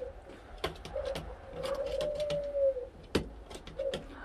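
A young Modena pigeon coos softly in a loft, its low, drawn-out calls repeating over a few seconds, broken by several sharp clicks and knocks nearby.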